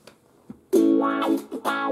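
An electric guitar runs through the drive effect of a Zoom G1X Four multi-effects pedal, playing a few distorted, sustained notes that ring loudly and alone.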